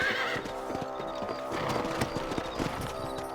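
Horse hooves clip-clop at a steady rhythm in the Red Dead Redemption video game, with whinnies and a soft musical score underneath, all clear and close.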